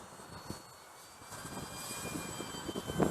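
Hiteck X300 Weekender RC airplane flying on a windy day, a faint high electric motor whine drifting in pitch at a distance, with light wind rumble and rising background noise.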